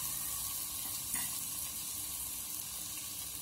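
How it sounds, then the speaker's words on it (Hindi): Spices sizzle steadily in hot oil in a pan as red chilli, turmeric and salt are roasted for a rice and onion curry, a continuous close hiss with no talk. "अब हम इस मसाले को अच्छे से भून लेंगे"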